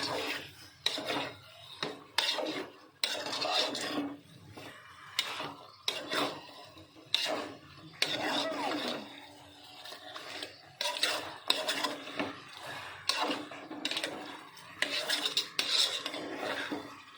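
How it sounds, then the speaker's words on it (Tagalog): Humba pork hock being stirred with garlic and onion in a pot, giving repeated scraping and rubbing strokes of a utensil against the pot in an irregular rhythm, close and fairly quiet, with no talking. "Haluin natin para manuot yung garlic and onion."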